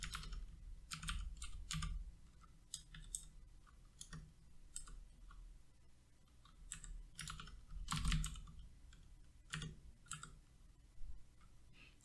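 Typing on a computer keyboard at a desk while working on a game project, with steady bursts of close, crisp key clicks separated by short pauses, over faint low room hum.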